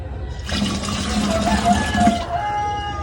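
Coconut water pours into an ice cream mixture in a steady splashing stream for about two seconds, close by, then stops.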